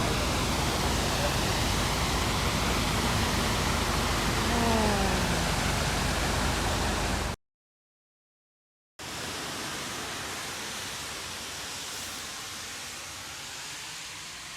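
A steady, dense rush of falling water from the Quequén Salado river waterfall in Buenos Aires, Argentina, continues throughout, briefly cutting out before resuming at slightly lower level.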